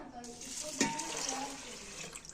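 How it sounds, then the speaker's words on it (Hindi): Water from two tins pours into a cooking pot, a steady splashing rush with one brief louder splash early on, close and moderately loud with no talk over it. "ये 2 डिब्बे भर के मैंने पानी के डाले हैं।"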